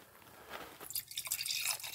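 Red wine pours into a glass, a soft trickle that swells into a louder, bright splashing stream over about two seconds, with no talking.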